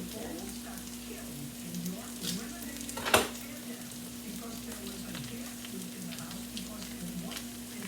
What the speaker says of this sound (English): now I'm gonna put the sausage in.